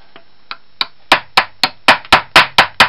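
A hammer taps on a Roto corner-drive lock part during a repair, about a dozen sharp close metallic knocks, sparse at first and then quicker and louder in an even rhythm.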